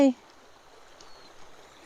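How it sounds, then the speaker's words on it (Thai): A small forest stream with a little waterfall in New Zealand woodland gives a steady, soft rush of water throughout, and a voice is briefly heard at the very start. "น่าจะเป็นลำธารนะคะ นี่ มีน้ำตกน้อยๆด้วย"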